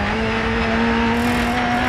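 Ford Escort Group A rally car in DiRT 4, engine held at a steady high drone with a clear sustained pitch, loud and close without gear changes or other sounds.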